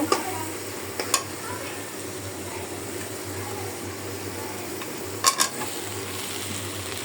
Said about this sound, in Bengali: মশলাটা একটু কষায়া